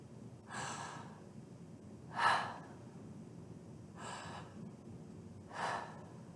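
Four separate breaths pushed out through the mouth during a saxophone embouchure exercise, each a soft airy whoosh a second or so apart, close and fairly quiet, with no talking.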